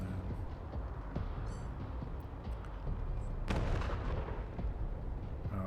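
Gunshots in the Wasteland 3 video game: sharp cracks and booming blasts over a dense, rumbling battle din, with a heavier burst midway, loud and continuous throughout.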